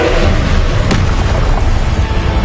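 A Confringo fire-blast spell goes off in Hogwarts Legacy, a loud, continuous rumbling boom with one sharper burst partway through, dense and close throughout.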